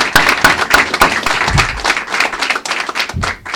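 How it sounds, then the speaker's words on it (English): Audience applause for a governor at a Puerto Rico hurricane relief commission signing, a brief burst of clapping with thumps and scattered claps that thins out over a few seconds. "So I want a big round of applause for Governor Murphy."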